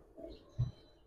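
A male Giribaz silver pigeon of the Bagha line gives a single short, low coo, fairly soft and close, over quiet background noise.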